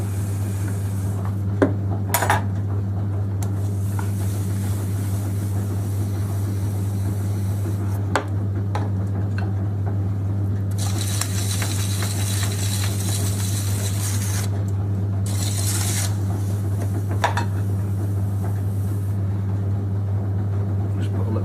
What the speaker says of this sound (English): I'm just going to finish off this casserole now, so just trim it up a bit, turn it a bit, just tidy it up